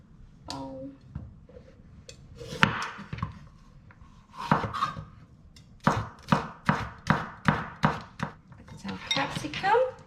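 A knife chops capsicum on a board for homemade pizza. The cuts come in a quick, even run of close sharp knocks, and a person speaks in between the cutting.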